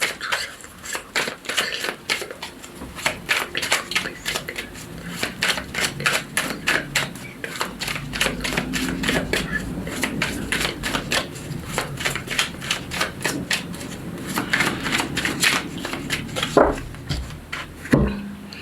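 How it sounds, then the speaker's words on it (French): Tarot cards being cut and drawn: rapid, crisp card snaps and shuffling flicks in a quick rhythmic run, close to the microphone, then a few slower placements near the end. "On va prendre une coupe et 6 cartes."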